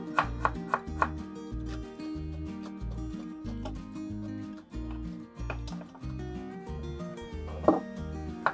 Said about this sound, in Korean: 오이도 약간 채 썰어줍니다